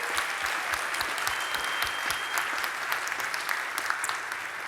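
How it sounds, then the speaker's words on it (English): Audience applauding at an infrastructure awards ceremony, steady dense clapping that fills the whole stretch at an even level, with no voices over it. "Big round of applause."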